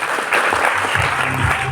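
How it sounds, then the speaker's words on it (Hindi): An audience claps together, dense and steady, with a few voices faintly mixed into the crowd noise. "अगर डांस करना नहीं आता तो तालियां बजाते रहना"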